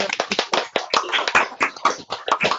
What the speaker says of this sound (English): we will give a round of applause in the usual way